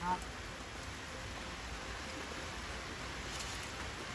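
Steady rain falls on a rainy day around an elephant and its mahout, a dense even hiss filling the whole clip at moderate level, with a voice speaking faintly beneath it.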